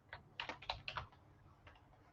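Keystrokes on a computer keyboard while code is typed, a quick burst of soft clicks in the first second then a couple of isolated taps, faint and close with no talk.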